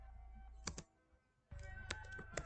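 Code being typed on a computer keyboard, with quick bursts of crisp clicking keystrokes, a short pause, then a denser run of taps, close and quiet.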